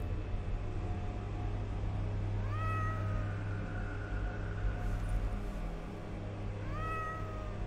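A cat meows twice within the video game The Excavation of Hob's Barrow, each a rising-falling cry a few seconds apart over a steady low ambient hum.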